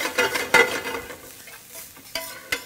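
Serrano and garlic cooking for black beans in a pan on medium-high heat: light sizzling under several loud, uneven scraping stirs of a utensil against the pan, with no voices.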